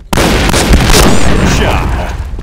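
Grenade explosion in the shooter Point Blank, a loud sudden boom right at the start that rolls into a long noisy rumble and fades slowly, with game sounds mixed in.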